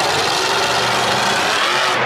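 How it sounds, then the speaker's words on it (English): Monster truck engine roaring in an arena at a Monster Jam show in Arlington, a loud continuous deep drone that holds steady without pauses. "This truck is so loud and I love it."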